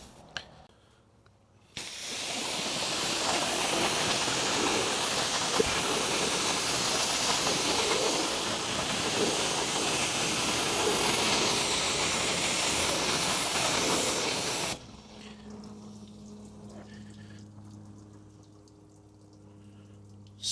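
Car sealant wax sprayed onto a vehicle's surface gives a loud, steady sizzling hiss that runs for about thirteen seconds, then cuts off abruptly into quiet background.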